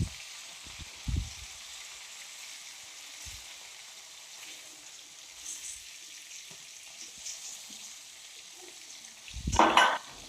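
Fish frying in a pan for an Assamese drumstick fish curry, a steady soft sizzle with occasional stirring scrapes and a louder clatter near the end, no talking.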